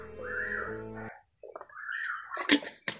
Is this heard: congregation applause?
no